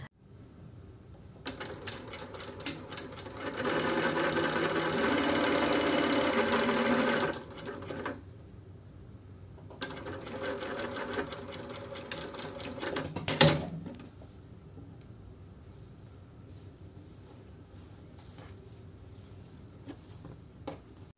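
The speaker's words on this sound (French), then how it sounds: "J'ai piqué donc à la machine au point droit ici à 1 cm du bord" A sewing machine stitches a straight seam 1 cm from the fabric edge, two close, loud bursts of rapid whirring needle clatter separated by a short pause, then quiet handling sounds.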